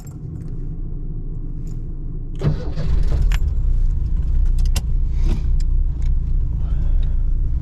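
A Ford Fox body car engine cranks and catches, rising from idle hum into a loud, steady rumble with clanking and rattling transients, heard close by without any talking.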